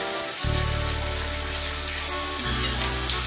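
Papaya frying in mustard oil in a wok, a steady close sizzle with a low rumbling hum underneath and a brief stir partway through, no voices.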